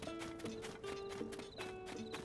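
Horse hooves clip-clop at a walking pace with a short whinny in the video game Zelda Tears of the Kingdom, set against a soft musical background.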